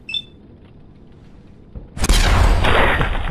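A gunshot in Fallout 4 bursts out loud and close after a quiet stretch, a sharp crack followed by a heavy booming tail that rings on to the end.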